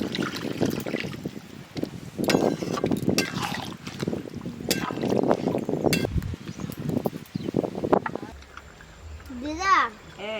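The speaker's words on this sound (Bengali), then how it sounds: "এবারে জল দিয়ে দেবো। জল," Water poured into a pan of chicken and cauliflower being cooked, a trickling splash running beneath steady nearby talk, with a voice and kitchen clatter mixed in.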